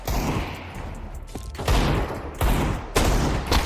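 Loud bursts of rapid gunfire in Counter-Strike 2, several sustained volleys with short breaks between them, close and dominant.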